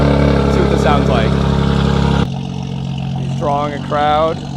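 A BMW with a 4-inch single mid muffler exhaust at a large BMW meet gives a loud, close engine roar for about two seconds. It then drops away abruptly, leaving a quieter idle under people talking.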